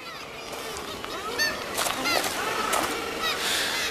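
A weakened gannet tangled in discarded plastic netting gives harsh, honking calls, several scattered cries at moderate distance over a steady wash of background noise.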